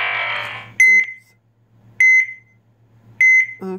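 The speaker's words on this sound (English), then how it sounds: "Okay, beeping." Electronic alert beeps from the Plague Inc game, three sharp tonal double chirps spaced about a second apart, loud and clear over a low steady hum.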